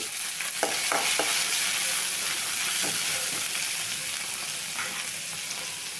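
Onions and tomatoes frying in oil for a jackfruit gravy, a loud continuous sizzle with a few light stirring scrapes, close and without speech.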